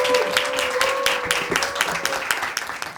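An audience claps to welcome a student quiz host at an information session for a Korean leadership school: a steady, moderately loud patter of many hands with scattered sharper claps, a faint tonal hum running underneath.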